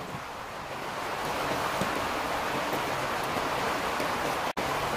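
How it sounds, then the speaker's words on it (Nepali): Rain falls outside, a steady broadband hiss that holds evenly for several seconds with no voices, briefly cutting out near the end. "बाहिर लास्टमा पानी परिरहेको छ।"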